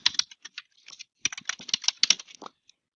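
Keys clacking on a computer keyboard while an email is typed, in irregular bursts of crisp taps with brief pauses between words, close and clear with no talking.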